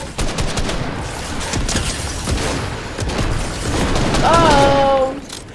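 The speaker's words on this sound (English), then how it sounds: "The power of laggy rockets." Rocket launcher explosions in a red-versus-blue video game match form a dense, loud, continuous barrage of blasts and rattling fire, with a voice talking over them.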